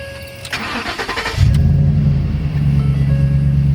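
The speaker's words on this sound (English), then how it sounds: "Turn the truck on." A 2012 Ford F-150 pickup truck's starter cranks briefly before the engine catches and settles into a loud, steady idle rumble nearby.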